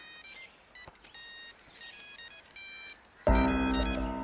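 A thin electronic ringtone melody beeps in short repeating phrases, then a louder, fuller sound abruptly takes over near the end.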